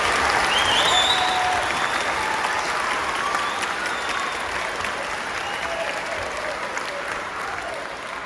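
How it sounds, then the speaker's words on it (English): A crowd at a primary schools' kapa haka award ceremony applauds, a dense, even clapping that starts strong and slowly tapers, heard from within the audience. "maybe a huge round of applause for the crowd"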